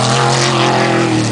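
A jet sprint boat engine running rough during an Oregon race, a loud, steady roaring drone with a dense buzzing hum that holds without a break.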